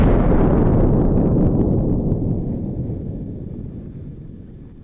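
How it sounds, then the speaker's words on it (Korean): An edited-in explosion effect for a building under bombardment bursts loudly at once as a deep, rumbling blast, then slowly decays over several seconds into a fading low roar. "뭔가 폭격이 오고 있다는 것을 표현하기 위해서 뒷 배경과 여기 이 건물의 폭발 효과를 추가할 것입니다"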